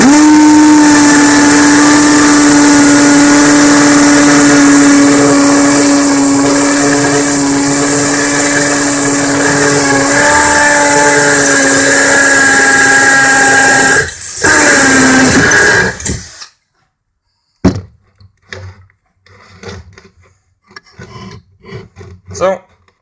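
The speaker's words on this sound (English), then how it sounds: "We'll drill another one." A Makita 18V LXT LXPH01 cordless hammer drill bores a 5/16 hole with a loud, steady high-pitched whine for about fifteen seconds, then cuts off, followed by quiet handling knocks and scrapes.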